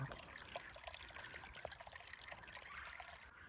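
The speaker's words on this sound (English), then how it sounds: "Look at that cute little waterfall." A small waterfall trickles beside a muddy hiking trail, a faint, continuous burble of running water with a few soft splashes.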